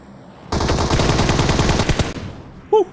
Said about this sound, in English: So we hear shots out in the field.